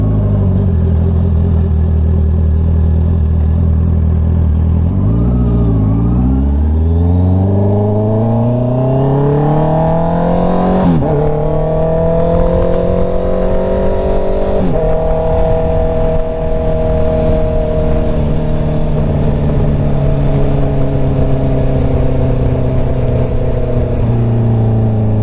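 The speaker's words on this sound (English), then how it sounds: "Luckily you can't really hear that much of the exhaust noise from the rider position, but outside of the bike it's super loud." Motorcycle exhaust revving loudly, heard outside the bike: a deep idle that swells into repeated rising revs with sharp shifts in pitch, close and very loud throughout.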